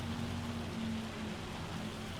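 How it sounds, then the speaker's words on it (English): Hail falls in the video game Farming Simulator 25 as a steady, dense patter with a constant hiss and no voices. "This is some relatively large hail you're seeing come down here."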